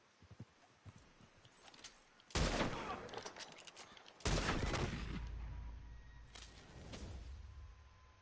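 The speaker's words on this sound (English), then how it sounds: "He shot me, dude." Gunshots in a Western horseback game, a couple of loud sharp cracks several seconds apart, each ringing out and fading over faint background sounds.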